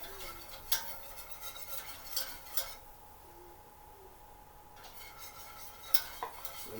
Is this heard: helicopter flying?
no